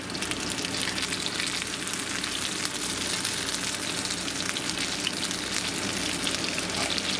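Potato cakes sizzle in a hot pan after being flipped, with a steady, even crackle and hiss of frying oil heard close up and with no voices.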